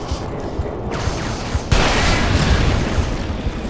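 A trip mine is shot and detonated in Halo 3, a sharp blast breaking out mid-clip into a loud, sustained rumbling roar layered over ongoing gunfire and game noise.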